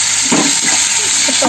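Onion, cumin and curry leaves fry in hot oil, giving a loud, steady sizzle and hiss with soft stirring scrapes underneath.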